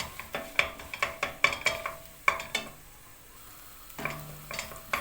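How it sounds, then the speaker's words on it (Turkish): Metal utensil clinks and scrapes against a pan as tomato paste is stirred, with a soft sizzle underneath; stirring pauses briefly, then resumes. "Salçam kavrulsun."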